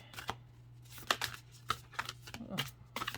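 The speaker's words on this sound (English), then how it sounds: "Let's go ahead and shuffle and see what happens here." A deck of astrology cards being shuffled by hand, quiet irregular bursts of riffling and slapping cards under faint talk.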